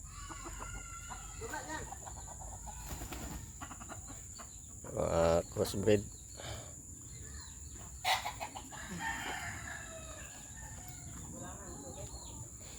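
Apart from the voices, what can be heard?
rooster crowing and clucking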